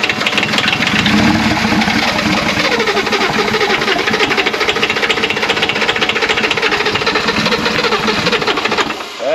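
BMW E34 car engine running loudly and steadily up close, a dense continuous mechanical drone with a rapid ticking rhythm that holds without a break before dropping off abruptly at the end.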